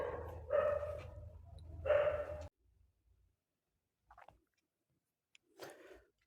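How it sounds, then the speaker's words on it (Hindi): Dogs barking twice nearby, with a couple of short loud barks in the first seconds, then near silence and a few faint distant yips. "देखिए इसमें कुत्ते भी भौंक रहे हैं"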